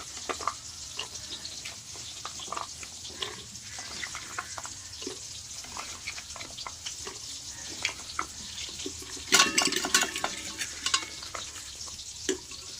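Cut vegetables go into a hot pan and are stirred, giving a continuous sizzle with scraping and clinks, plus a louder burst of sputtering and splashing near the end.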